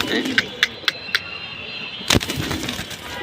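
A deep blue-eyed male Jabra fancy pigeon coos in short separate pulses, with a brief flutter or rustle near the end over quiet background noise.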